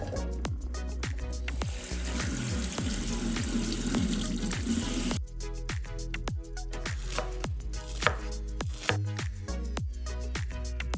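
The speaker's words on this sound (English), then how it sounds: "Let's drain and rinse in cold water to stop the pasta from cooking." Cooked pasta being drained and rinsed under a cold kitchen tap, a steady rush of running water pouring into a sink throughout, loud and close, with a brief shift in the splashing partway through.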